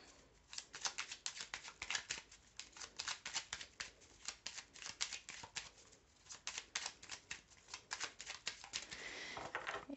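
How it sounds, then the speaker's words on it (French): Cards are shuffled in rapid, crisp overhand bursts, a steady run of quiet flicking and slapping with brief gaps, close and faint. "Je vais remélanger."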